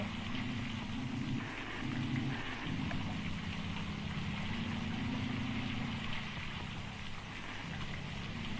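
Steady rain hisses continuously, with a low rumbling hum underneath and no voices.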